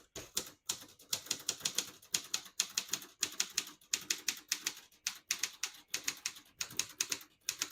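Typing on a 1971 Consul 231.3 portable typewriter: a quick, crisp run of close key strikes in a steady rhythm with brief pauses between bursts, no voices.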